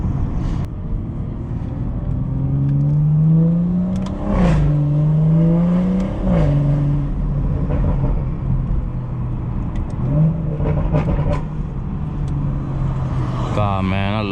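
A modified BMW 440i engine in Sport Plus mode drones and revs through several gear changes, pitch rising and dropping repeatedly, loud and close throughout.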